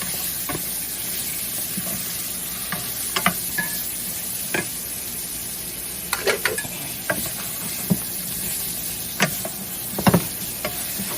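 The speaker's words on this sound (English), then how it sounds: "We're just going to cook up these onions right in here." Onions cooking in a lightly oiled pan for pepper steak, a low steady sizzle broken by irregular scraping and stirring clicks from a utensil, close and alone with no talk.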